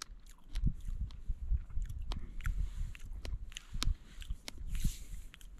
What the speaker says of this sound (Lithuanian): biškai traška tarp dantų, bet nieko skanu